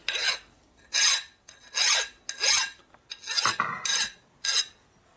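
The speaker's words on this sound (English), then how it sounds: "I should probably deburr that edge because it's probably sharp now." Repeated strokes of a file deburring the edge of a metal transmission part for a 1942 Harley-Davidson WLA 45ci, about six rasping passes in a steady rhythm with short gaps between, close and clear with no talk.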